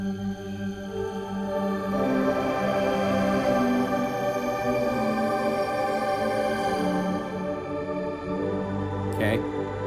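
A synthesizer patch built from nature recordings of bugs and birds plays as a thick, sustained layered drone with chirping textures on top, loud and continuous, ending with a brief sharp high click.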